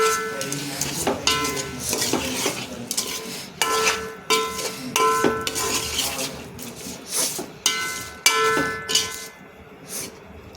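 Chili powder, turmeric and home-ground biryani masala being stirred and sautéed in oil in a pan, with a metal spatula clanging and scraping against the pan in repeated bursts, fairly close and moderately loud.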